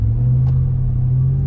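A Hellcat-swapped Jeep Gladiator 6x6 truck engine rumbles low and steady as the vehicle pulls away from a stop, a deep continuous drone heard from inside the cab, no talking.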